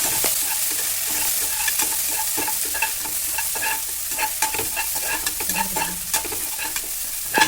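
Onions and green chillies sizzle steadily in hot oil while a spoon stirs and scrapes the pan in quick, irregular strokes, for a Chettinad mutton curry.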